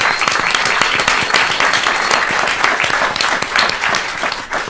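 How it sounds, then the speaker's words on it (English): Loud, dense audience applause at a talk on ending mass incarceration, sustained steadily without a break. "I want everybody to give Joyce a big round of applause."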